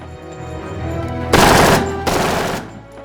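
Two loud bursts of automatic gunfire, hijackers shooting in a staged sound effect, each rattling rapid volley lasting over half a second after a low rumbling lead-in, then fading out.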